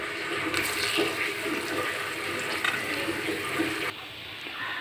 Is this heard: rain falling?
no